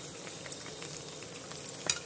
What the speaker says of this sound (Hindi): तो उसमें हम 2 मीडियम साइज की प्याज को इस तरह से बारीक चॉप कट करके डाल देंगे।